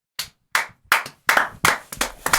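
Sparse, uneven hand clapping from a small group standing in for a studio audience on a podcast set, arriving in about six loud close bursts with short gaps between them.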